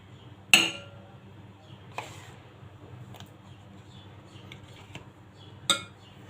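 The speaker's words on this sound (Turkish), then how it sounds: "bir kabın içine 500 gram yoğurt alıyorum" 500 grams of yogurt goes into a bowl with a sharp clink of utensil on dish, a few softer taps and scrapes, then another bright clink near the end, all close and without talk.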